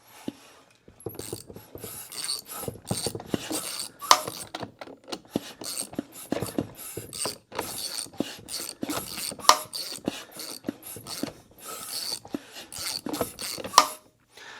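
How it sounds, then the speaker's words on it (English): Rapid mechanical clicking and rasping from a Honda CRF250R motorcycle engine turned over by hand, the automatic exhaust decompressor clicking, uneven bursts with brief gaps, close and fairly quiet, without speech. "That noise you're hearing is the automatic decompression for the exhaust."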